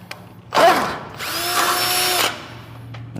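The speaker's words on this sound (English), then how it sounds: "It's a drill press." Drill press boring through metal in a garage shop during work on a C10 pickup's suspension, one loud whining cut lasting about two seconds that ends abruptly after a brief motor spin-up.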